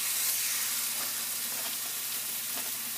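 Chicken pieces sizzle in a hot oiled pan, giving a steady, close, hissing fry with faint crackles and no voices.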